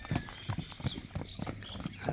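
A horse walks close by, its hooves striking the ground in an even clip-clop rhythm of about six soft, distinct footfalls.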